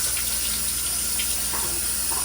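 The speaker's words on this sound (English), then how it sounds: "I always turn on the water" A kitchen tap runs continuously while potatoes are peeled, giving an even, fairly faint hiss of flowing water with no pauses.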